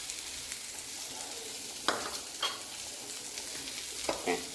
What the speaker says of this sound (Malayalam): കടുക് താളിക്കാനായിട്ട് എടുക്കുന്നത് അപ്പോൾ നമുക്കിത് താളിച്ചു കൊടുക്കാം